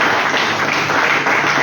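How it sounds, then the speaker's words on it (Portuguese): A Pentecostal church congregation in Mogi Guaçu applauds, producing dense, continuous clapping that stays loud and even for the whole short stretch. "dê uma salva de palmas para Jesus, bem forte, bem alegre"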